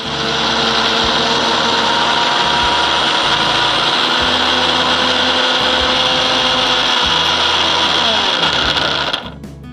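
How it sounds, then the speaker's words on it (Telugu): A mixer grinder blending uthappam batter with added water, a loud steady whirring motor hum that runs close and unbroken for several seconds, then cuts off abruptly at the end. "సో వాటర్ యాడ్ చేసుకున్న తర్వాత ఇప్పుడు మిక్సీ పట్టుకుందాం"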